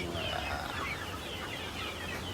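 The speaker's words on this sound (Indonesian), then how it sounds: "Ayam-ayam kampung sendiri." Free-range village chickens in a coop cluck steadily amid a dense, continuous farmyard background, with no speech over them.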